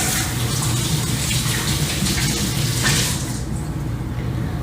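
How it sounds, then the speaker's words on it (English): Hands washed under a running sink tap in a home kitchen, a steady, loud gush of water that stays constant and then eases slightly near the end, with no voices. "I'm just going to do a quick wash of the hands"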